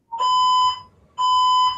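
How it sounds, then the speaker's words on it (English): A fire alarm sounding indoors, two loud piercing electronic beeps with a short gap between them, no talk over them. "Fucking fire alarm."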